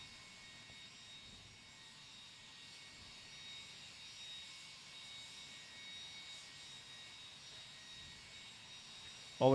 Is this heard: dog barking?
no